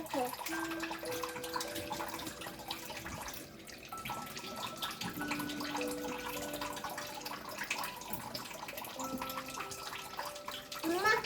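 Water runs steadily from a tap into a bathtub, a soft continuous splash at moderate distance while a child and an adult talk over it.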